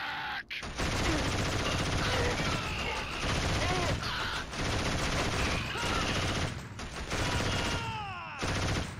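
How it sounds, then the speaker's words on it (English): Machine gun fire rattles in the Killzone video game, dense and continuous bursts up close with brief pauses, mixed with battle noise and a voice speaking over it. "Come on, jump right into MG fire"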